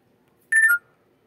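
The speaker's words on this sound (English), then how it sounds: "When you hear that noise, it means, you know, that the phone has just scanned, you know, one of the tags" A phone beeps as it scans a checkpoint tag on a guard tour: a single short electronic tone, clear and isolated against near silence.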